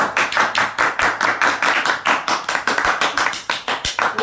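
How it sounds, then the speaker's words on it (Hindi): Audience clapping in a room, a dense, steady patter of many hands with a few sharper individual claps standing out, continuing throughout at moderate loudness. "तालियां मारिए"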